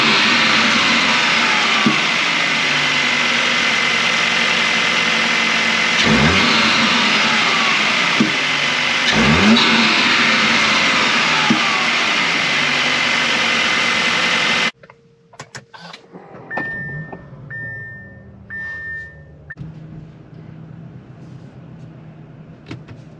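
An Audi S3 8Y with a Unitronic cold air intake idles with a loud steady rumble, then cuts off; brief chimes and mechanical clicks follow in the quieter stretch.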